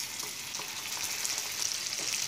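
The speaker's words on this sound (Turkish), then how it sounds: "Şekerimiz iyice eridikten sonra üzerine 1 yemek kaşığı tereyağı," Butter hitting melted sugar in a pan, a lively continuous sizzle and crackle with small bubbling pops, fairly close and free of speech.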